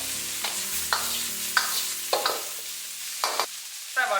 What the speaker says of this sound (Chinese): 再把青椒、干海椒给加进来，随意的给它煸炒2下。